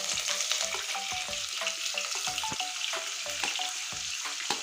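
Chopped onions fry in a pan for a soybean and potato curry, a dense continuous sizzle close by, punctuated by regular scraping and tapping strokes of a spatula against the pan; no voices.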